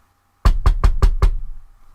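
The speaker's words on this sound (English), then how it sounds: "Peter hurried to John Mark's mother's house and knocked on the door." Five quick, evenly spaced knocks on a wooden door, close and solid, in a children's Bible story as Peter arrives at a house, followed by a short fading resonance.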